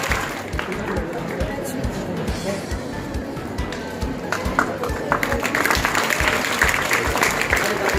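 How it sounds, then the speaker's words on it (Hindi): Children at a government school function in Kathumar clap loudly and continuously, a dense crowd applause with some chatter mixed in, swelling louder toward the end. "जोरदार तालियां।"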